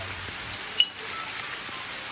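Rain patters steadily at an outdoor cookout over a wood fire in Broad Stone, Portland, Jamaica, a soft continuous hiss with one brief louder knock, no talk.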